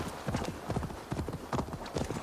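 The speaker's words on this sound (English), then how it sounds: "It was the horse is already galloping fast." Rapid, steady hoofbeats of a galloping horse in the video game Assassin's Creed Valhalla, loud and close, repeating in quick bursts throughout.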